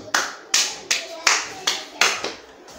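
A single person claps seven times at a slow, even pace, each clap a sharp, close, fairly loud slap with no other voices or noise around it.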